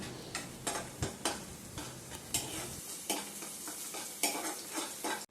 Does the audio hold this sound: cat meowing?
no